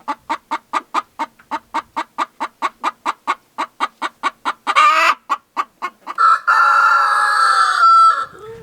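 Several hens cluck loudly and rhythmically in a steady run of sharp pulses, then break into long, drawn-out squawking calls, the excited egg song of laying hens kept in a small backyard flock.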